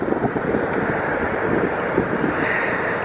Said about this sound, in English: the wind is probably killing all my audio.